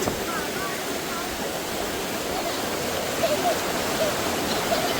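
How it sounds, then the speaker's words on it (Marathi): Water flows and splashes steadily at a resort swimming spot, a constant moderate rush like a small cascade or stream, with faint distant voices in the background. "पाण्याचा आवाज बघताय एकदम जबरदस्त आहे"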